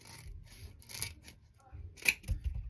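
Scissors snip into a dried loofah sponge during a craft session, a few short, faint crisp cuts and rasps set apart by pauses, close up and quiet.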